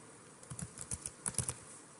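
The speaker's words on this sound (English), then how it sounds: "type any portion of a first or last name in upper or lowercase and click the search button" Soft, close typing on a computer keyboard: a scattered run of light clicks in small clusters over a faint steady hiss, with no talking.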